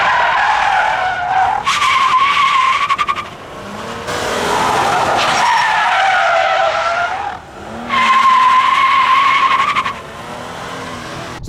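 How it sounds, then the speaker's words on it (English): A 1993 Lexus doing handbrake turns, its tires skidding and squealing in loud sustained bursts with engine revving between them, repeating several times close by. "Should I take a chance on some celebratory handbrake turns"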